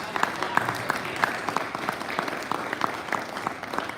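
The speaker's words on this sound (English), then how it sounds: "Let's give her another round of applause." An audience at a Rotary club meeting applauds for Judy, a steady patter of many hands clapping together at moderate loudness, continuing evenly throughout with no voices heard.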